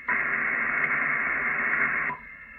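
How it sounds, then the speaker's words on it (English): Steady static from an Icom IC-756 HF/50 MHz amateur radio transceiver hisses loudly for about two seconds, then abruptly drops to a much quieter background hiss as noise reduction engages. "You can see how much background noise is gone with the noise reduction feature"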